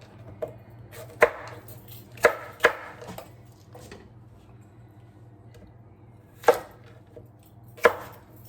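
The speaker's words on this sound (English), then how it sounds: "maybe I should cut them further, small" A knife chops potatoes into small pieces on a cutting board, with several sharp, separate knocks spread irregularly over quiet pauses, close and clear with no talking.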